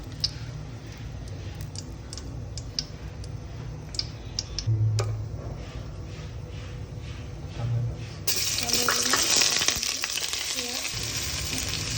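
Bay leaves sizzle in hot mustard oil for tehari, a steady low frying crackle with faint ticks, rising to a brighter, louder hiss near the end.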